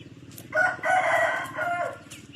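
A Burmese-breed rooster crows once nearby, a long rising and falling call over a faint rhythmic background hum.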